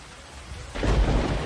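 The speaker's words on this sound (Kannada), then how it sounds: "ಮೊಂತಾ ಚಂಡಮಾರುತದಿಂದ ರಣಭೀಕರ ಮಳೆ ಸುರಿತಾ ಇದೆ" Heavy rain from Cyclone Montha in Visakhapatnam, Andhra Pradesh: a steady downpour hiss swells suddenly into a louder, denser roar about halfway through, with a deep low rumble underneath and no voices.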